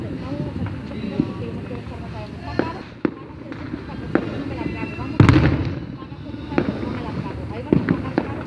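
Fireworks go off outdoors in a series of sharp cracks and pops scattered at irregular intervals, with one bigger burst midway, over a background of voices.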